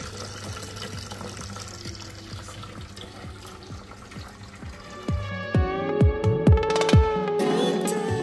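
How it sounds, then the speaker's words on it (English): Reverse osmosis filtered water runs from a tap into a glass, a steady liquid pour with splashes that turn brighter and more gurgling as the glass fills toward the end. Close and moderately loud, with no talking. "So we're gonna fill up a glass of water"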